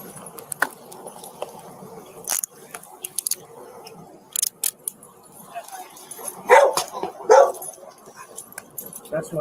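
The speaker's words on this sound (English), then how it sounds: "That's my dog." A dog at a police arrest scene barks in short, sharp bursts with whimpering yips, loudest near the end, mixed with people talking nearby.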